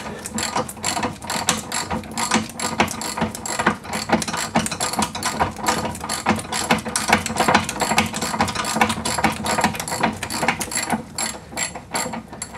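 A hand ratchet loosens a control arm bolt on an Audi A4 B5 1.8T, a rapid, loud run of close clicking in steady bursts throughout, with no speech.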